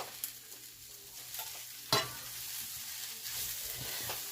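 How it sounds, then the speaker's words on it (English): Cabbage stirred into browned onions in a frying pan, giving a steady close sizzle with soft scraping stirs and a sharper clatter near the middle; no talking. "what I'm going to do is I'm going to throw in my cabbage. I'm just going to stir that in."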